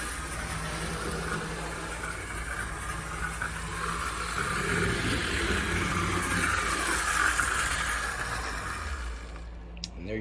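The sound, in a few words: HO scale Athearn GP35 model locomotive motor running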